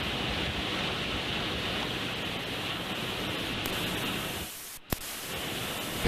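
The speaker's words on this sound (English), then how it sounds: "It is just, it's almost like a horizontal waterfall." Roaring hurricane wind and driving rain from Hurricane Hermine's landfall form a loud, steady broadband rush throughout, dipping briefly near the end before resuming.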